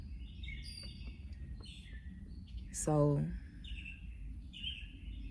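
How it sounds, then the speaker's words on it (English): Birds chirp and call outdoors, with thin high tweets throughout and one louder, longer descending call in the middle, under steady background noise. "the birds know they chirping, they just communicating in their own little way"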